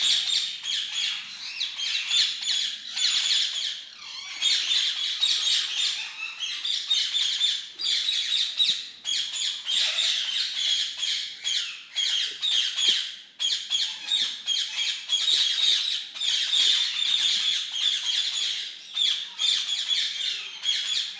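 Many exotic birds in a breeder's aviary in Brazil squawk and screech continuously, a loud, shrill, overlapping chorus with harsh calls and chirps that barely lets up, no voices.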